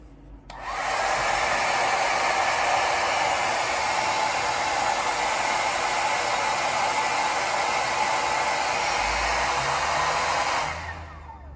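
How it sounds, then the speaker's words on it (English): A hair dryer blows steadily at full power into a pillowcase for about ten seconds, a loud continuous rushing whoosh that cuts off abruptly. "see if our hairdryer can inflate the pillowcase"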